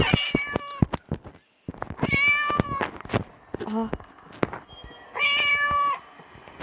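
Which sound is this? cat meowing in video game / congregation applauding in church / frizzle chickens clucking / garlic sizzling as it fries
cat meowing in video game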